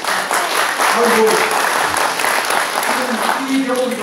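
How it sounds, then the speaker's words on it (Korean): An audience at a lecture or talk bursts into sustained applause, a dense, steady clapping that fills the whole stretch with voices faintly mixed underneath. "이 경우도 박수 치시는 거 여러분들 들으시는 수준이 상당한 것 같습니다."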